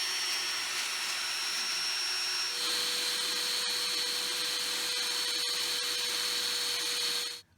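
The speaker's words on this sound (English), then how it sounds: "this is all hooked up to the drill" An electric drill hooked up to a DIY tool for repairing a broken differential cross pin bolt runs steadily at a loud, constant whine, shifting to a higher pitch midway and cutting off at the end, with no talking.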